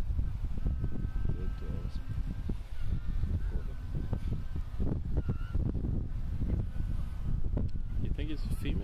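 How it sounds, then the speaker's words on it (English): Goslings call with repeated honking peeps outdoors near Punta Arenas, Chile, partly masked by gusty wind and rumbling background noise. "How long does that sound go on for? You know what I think that is? It's goslings."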